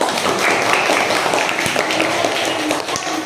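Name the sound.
class of pupils clapping hands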